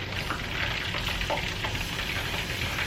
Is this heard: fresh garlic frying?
yes